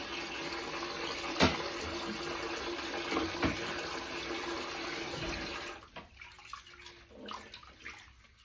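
Water runs steadily from a tap with a couple of knocks, then cuts off and gives way to splashing and dripping as a bottle is rinsed and emptied.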